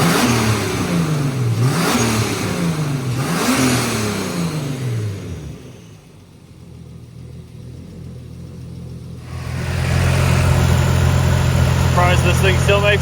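A turbocharged S52 engine in a BMW E30 touring revs loudly in repeated rising and falling sweeps, then drops to a rough, steady idle before picking up again, heard close by.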